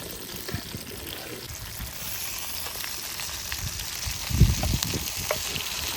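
Freshly caught prawns and fish fry in a pan outdoors at Brighton Marina, a faint, steady sizzle with light bubbling and a louder spattering pop near the end.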